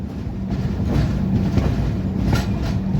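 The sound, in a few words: Mandovi Express train departing Karmali station, Konkan Railway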